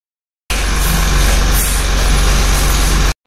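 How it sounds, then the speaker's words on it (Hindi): A vehicle pulls up at night with a loud, steady engine rumble and broadband road noise lasting a few seconds, close by, then cuts off abruptly. "देखिए यहाँ पे पीयू के डैडी आ गए थे रात को, ये गाड़ी लेके ही आए थे क्योंकि सिलेंडर लेके आना था ना।"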